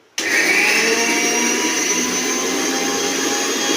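Mixer grinder grinding coconut, garlic and spices, starting abruptly and whirring loud and steady with a high motor whine throughout, no talk.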